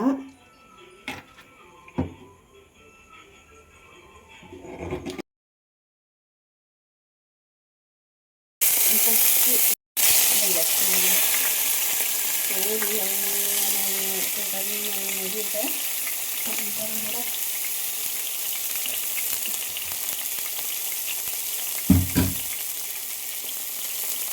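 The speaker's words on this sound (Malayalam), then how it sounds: "നമുക്ക് എണ്ണ ഒഴിച്ച് കൊടുക്കാവേ" Oil sizzling as chicken fries inside a pressure cooker, a steady loud hiss close up that runs continuously after a brief gap, with a few clinks and a voice talking early on.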